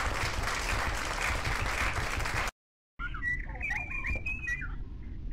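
Dense clapping from the indie game Bernband fills the first half loudly and steadily, breaks off into a short silence, then returns under bright whistle-like chirps and tones.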